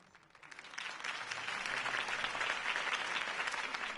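Crowd applause swells from a quiet start into sustained clapping and cheering at a political campaign rally for Harvey Dent in the Batman Telltale video game, steady and fairly loud with no speech over it.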